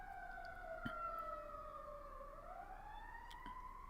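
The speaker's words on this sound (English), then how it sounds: "there's a siren." Emergency vehicle siren heard outside, faint and steady, its wailing tone sliding down then up again, with a few soft ticks in the background.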